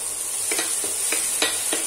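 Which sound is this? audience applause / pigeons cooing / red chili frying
red chili frying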